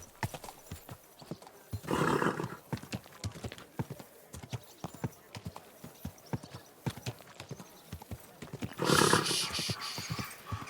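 Horse hooves clip-clop at a steady walking pace in the medieval game Kingdom Come Deliverance 2, with two louder bursts of heavier movement or snorting standing out from the rhythmic footfalls.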